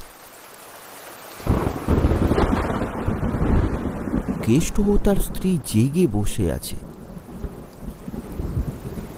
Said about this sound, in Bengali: মুষলধারে বৃষ্টি হয়ে চলেছে, সাথে মাঝে মাঝে বাজের শব্দ।